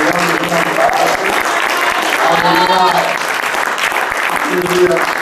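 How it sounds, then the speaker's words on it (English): A church congregation gives a sustained clap offering, dense applause rolling steadily for several seconds, with voices calling out beneath it. "Give God a wonderful clap offering"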